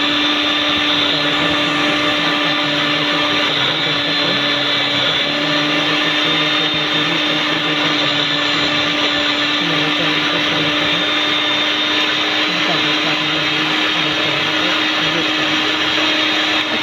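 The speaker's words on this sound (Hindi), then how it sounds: "जब तक ये ग्राइंड हो रहा है" A mixer grinder whirs steadily while grinding wonton filling, a loud, constant high-pitched motor drone with a rattling churn that runs unbroken throughout, with no voices over it.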